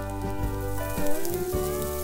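Wiens Wagyu London broil steak sears on a griddle heated to about 500 degrees, giving a loud, steady sizzle close up with no talking.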